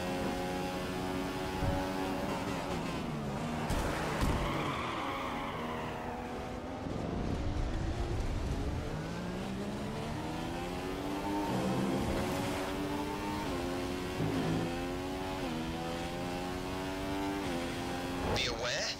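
Racing cars whine at high revs in the F1 2015 video game, several engines shifting pitch up and down together as they pass, with a voice talking over the engine noise.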